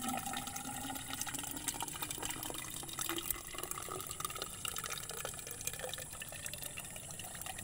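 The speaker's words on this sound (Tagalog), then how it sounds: "Lagyan natin ng tubig ito kung mayroon ng bukal." Water pouring steadily into a hole in a rice paddy to fill a spring for irrigation, a continuous close gurgling and splashing that stays even throughout with no talk.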